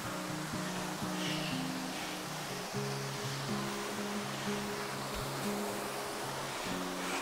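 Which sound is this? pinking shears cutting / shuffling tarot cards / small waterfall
small waterfall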